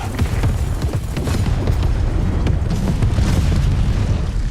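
Rocket barrage and explosions from a real-time strategy video game, a dense, loud, continuous rumble of booms and blasts with sharp cracks layered throughout, no talking.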